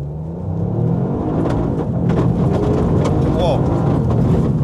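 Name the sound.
Toyota GR Yaris car driving off asphalt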